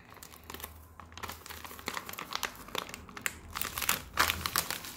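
Paper crinkles and rustles up close as a small envelope holding sample vials is sealed, with soft scattered crackles and taps over a few seconds in a quiet room.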